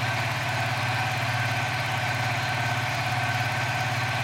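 A Suzuki FU 150 FI motorcycle fitted with a Suzuki GSX fuel injector idles steadily, a close, even mechanical putter with a constant low throb and no voices.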